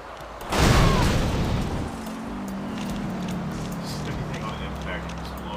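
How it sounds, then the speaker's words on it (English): A heavy explosion bursts close and loud in the Goat Simulator video game, then decays into a long rumbling wash of debris and ambient game noise. "Everything on impact explodes."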